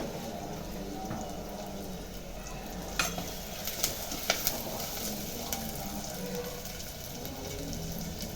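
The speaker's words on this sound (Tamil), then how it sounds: "கருவேப்பிலை போடுறோம்." Curry leaves dropped into hot oil in a home kitchen, a steady close sizzle and crackle running throughout with a few sharp pops, no talk.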